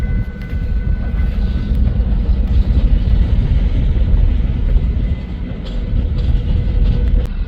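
A westbound empty coal train rolls steadily past at close range, its loud continuous rumble and clatter of rail cars filling the whole stretch without pause.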